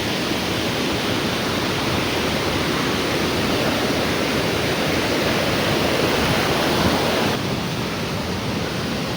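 A river rushes at Sundarijal, a loud, steady, close roar of churning water that runs unbroken and with no voices.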